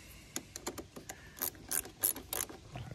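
A ratchet wrench on a car engine part makes a run of sharp, close clicks, first quick single clicks and then louder grouped strokes, with no talking.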